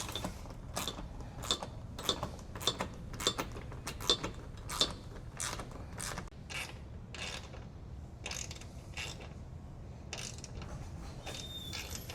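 A steady run of quick ratcheting clicks comes from tightening bolts through plastic into the frame mounts of a CFMoto U10 Pro aluminum modular roof rack. The clicks are close, even and repeated, with no talking.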